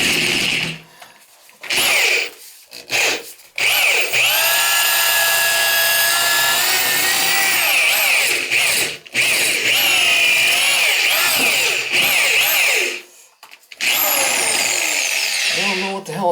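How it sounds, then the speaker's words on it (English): Power drill boring out a broken metal part lodged in a Moen shower valve, a loud sustained whine with shifting squealing pitch that runs most of the way through, cutting out briefly a few times, with a bit of talk near the start. "I would drill that sucker out if I could."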